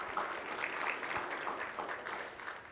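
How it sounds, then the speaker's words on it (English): Applause for Weslaco High School students at a district proclamation event, a faint, distant, steady patter of clapping from an audience lasting a few seconds. "round of applause for our students"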